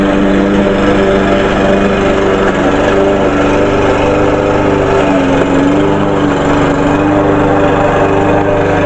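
A lawn mower runs continuously while mowing a yard, a loud, close, steady engine drone with a constant buzzing hum throughout and no speech.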